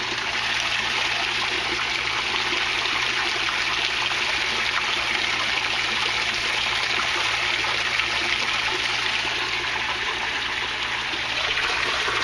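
Water pours steadily out of an aquaponics inflow pipe, a constant close rushing trickle with no pauses and no voices.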